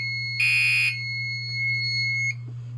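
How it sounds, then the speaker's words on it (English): A mini fire alarm system sounds during a test: a loud piercing tonal beep of about half a second, then a quieter steady tone that cuts off sharply, all over a constant low electrical hum. "So that'll beep at me constantly until I reset it"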